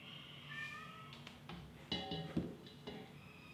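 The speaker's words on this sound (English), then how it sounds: "Did y'all hear that? That was my cat" A house cat meows softly several times in a quiet room where a crafter is mixing colors, the faint calls rising and falling with small clicks and handling noises between them.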